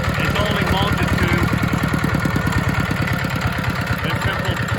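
A ZR185 Chinese single-cylinder diesel engine idles after a cold start, loosely mounted, with a fast steady thumping beat that stays close, loud and even throughout.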